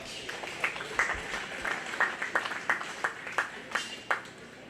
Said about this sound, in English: Let's give them two exhibitors a round of applause.